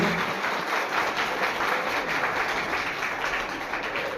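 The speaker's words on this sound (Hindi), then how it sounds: "अपने पार्टिसिपेंट्स का एक बार जोर से ताली बजाकर" Audience clapping at a school mothers' conference day event in a hall, a steady, dense wash of hands that carries evenly through the whole stretch without any voices.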